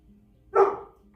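A single short dog bark sounds once during a home Pilates workout, fairly close and brief against a quiet room.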